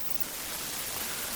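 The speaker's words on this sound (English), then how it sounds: "as I'm filtering up, you're starting to hear this white noise" Filtered white noise in Reason 3 opens upward, a steady broadband hiss that grows slightly brighter across a short, even stretch, with no voices.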